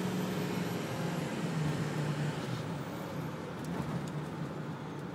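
A 2006 Ford F250 FX-4 XLT 4x4 Powerstroke diesel pickup accelerates, its engine giving a steady, fairly loud rumble throughout with road and wind noise mixed in.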